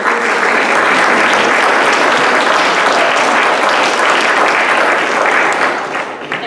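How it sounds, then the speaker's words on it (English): Loud, sustained applause from the audience at a Malden City Council at-large candidates forum, a dense roar of clapping that holds steady before thinning toward the end. "let's give another round of applause for a wonderful panel here"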